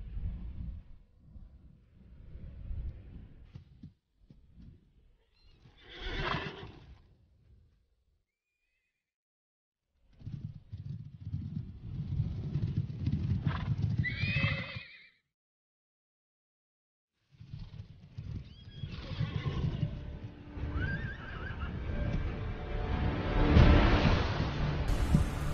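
Horses whinny loudly in several bursts, separated by silent gaps, with hoofbeats and rustling movement in between.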